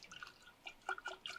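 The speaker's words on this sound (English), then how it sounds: "I'm adding 1 part water to 4 parts juice." Water is added to blackberry juice for country wine, heard as a few faint, close drips and small splashes in quick succession, alone without talk.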